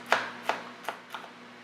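A knife chops candy pieces finely on a cutting board, four crisp, evenly spaced knocks slowing slightly, fairly close and quiet over a faint steady hum.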